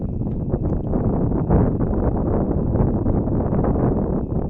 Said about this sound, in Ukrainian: Почався великий вітер.